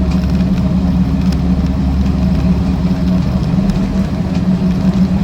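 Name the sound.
Land Rover Series IIa 88in driving on road, tyre noise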